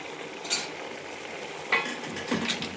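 Butter chicken being stirred in a pot with a spoon after vinegar and salt go in, giving a few soft scrapes and clinks over a faint steady sizzle, close and fairly quiet, with no talking.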